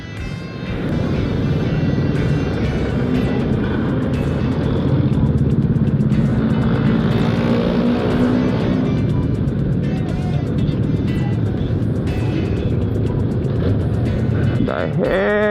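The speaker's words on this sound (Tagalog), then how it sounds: "traffic early in the morning." Busy early-morning road traffic, with cars and large trucks passing close by in a steady loud roar and rising and falling engine noise throughout, no clear talk.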